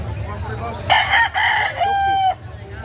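A grey gamefowl rooster crows loudly and nearby in Cebu City, a single long cock-a-doodle-doo in several rising and falling parts, over a faint background murmur.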